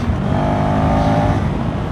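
KTM 390 SMC-R motorcycle engine revving while ridden, a close, loud, continuous drone with the pitch rising briefly and then settling.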